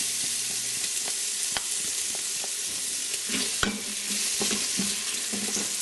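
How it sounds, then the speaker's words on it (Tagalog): Chopped onion and garlic sautéing in hot oil for goat kaldereta, a steady close sizzle running throughout with scattered scrapes and clicks from stirring, and no voices. "Kapag mainit na itong ating oil, igigisa na natin yung bawang at yung sibuyas."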